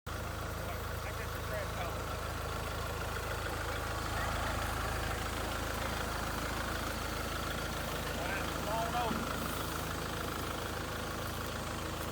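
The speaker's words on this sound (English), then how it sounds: "The Titan 12-inch auger." Titan 12-inch auger engine runs steadily at a low, rumbling idle throughout on a cabin build site, a continuous near mechanical drone with no clear speech over it.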